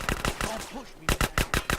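AK-47 machine gun fire in GTA San Andreas: rapid, loud bursts of shots, with a clear run of about five evenly spaced, punchy shots in the latter half, and a voice talking briefly in the middle.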